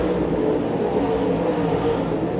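Dirt late model race cars roar down the straightaway in a steady, loud, dense engine drone that holds for the whole stretch, with no voices over it.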